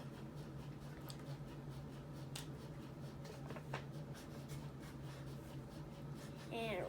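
Pen scratching on paper while a root beer rating is written down, faint and close, a soft continuous scribble with a brief louder rustle at the end.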